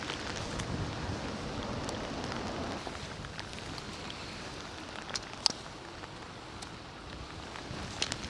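Wind buffets the microphone as rain patters on surfaces beside a private lake during fishing, a steady rushing wash with a few sharper drop taps near the end.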